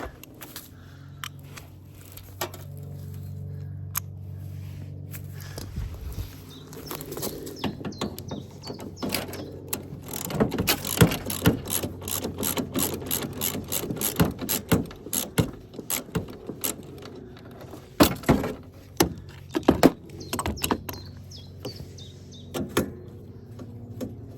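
Ratchet wrench with an extension turning on the transaxle of a Honda HF1211 riding mower, repeated clicking strokes in close bursts with a few metallic knocks, no talking.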